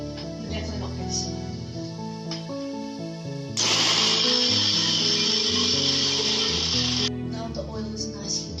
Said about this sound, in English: With our ginger and garlic, we're gonna grind it, not into a paste, but a coarse kind of crumble.